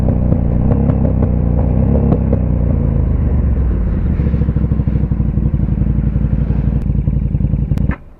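A KTM 1290 Super Duke R motorcycle revs loudly and close in traffic, its engine rumbling and clattering steadily before the throttle drops away near the end.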